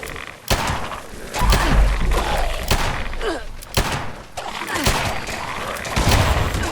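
An explosion erupts in Fallout 76 gameplay amid shotgun fire, a run of heavy thuds and booming blasts repeating over several seconds with a dense, chaotic rumble, and a voice speaks briefly.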